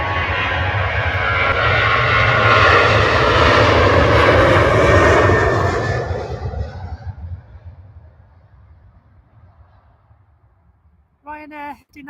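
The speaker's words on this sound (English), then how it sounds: "Ryanair heading out, and there is a flight just heading in as well." A Ryanair airliner roars loudly as it takes off at Manchester Airport. The engine noise swells, then fades into the distance, and a voice starts talking near the end.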